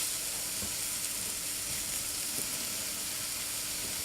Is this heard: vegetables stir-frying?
yes